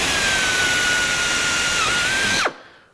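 An electric drill bores out holes in metal to an eighth inch, number 30 size, over sacrificial wood, a loud, close, steady whine that spins down abruptly and stops near the end, alone without talk.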